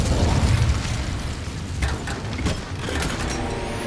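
An Incendio fire spell bursts out in Hogwarts Legacy with a loud whooshing, rumbling blast that fades into a crackling roar, with no voices over it.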